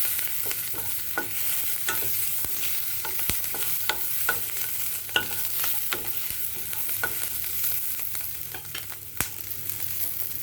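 Capsicum is stir-fried in a kadai for kadhai paneer, a continuous close sizzle broken by frequent sharp spatula clicks and scrapes throughout.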